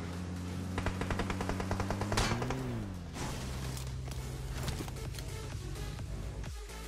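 Rapid automatic gunfire rattles in a battle royale shooter, a fast steady string of shots for a couple of seconds, then more scattered distant shots over a droning background.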